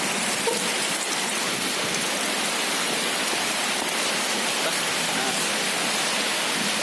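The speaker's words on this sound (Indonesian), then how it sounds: "karena gue kena hujan dikit anjir" Steady rain falls outdoors at an event venue, a constant even hiss of drops on surfaces without pause, close and fairly loud, with no voices.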